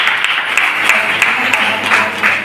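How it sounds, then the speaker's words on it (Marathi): A congregation at a church worship gathering claps loudly to thank the Lord, a dense steady applause with scattered sharper claps running throughout. "आपण जोरात टाळ्या वाजवून प्रभूला धन्यवाद देतो"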